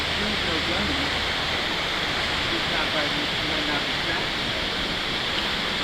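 Rushing water of a secret waterfall at Dog Creek, a steady broadband roar that fills the whole stretch without a break, loud and close, with no talk over it.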